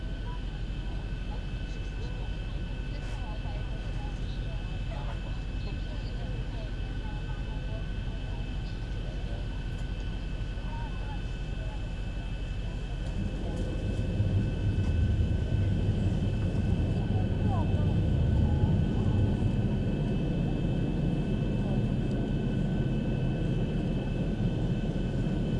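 Steady airliner noise in a flight simulator, a broad engine and airflow rumble that swells in low-frequency roar around the midpoint as the landing gear drops and adds wind resistance, continuing loud to the end.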